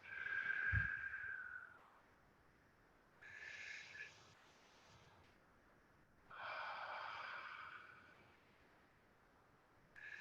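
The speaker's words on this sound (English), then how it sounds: "So we breathe in and breathe out." Slow, deep breaths drawn in and let out during a guided relaxation exercise, three long airy breath sounds separated by short pauses, close to the microphone and with no talking over them.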